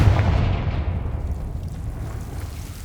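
A Confringo spell explosion in the video game Hogwarts Legacy, a heavy low boom with a rumbling tail that fades slowly over a few seconds.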